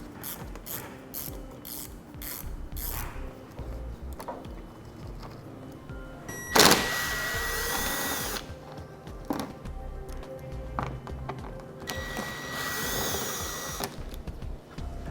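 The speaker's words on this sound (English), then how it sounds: "we'll still use the same T20 Torx bit for these screws" Ratchet driving a T20 Torx bit to remove bumper screws on a 2014 vehicle, giving repeated bursts of fast metallic clicking with pauses between, close by, plus a louder whirring spell midway.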